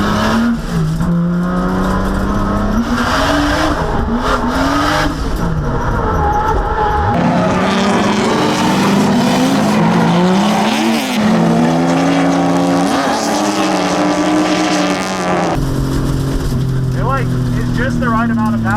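Drift cars making over 600 wheel horsepower drift at an event, with engines revving and rising in pitch, tires squealing in long sweeps, and voices talking over the roar.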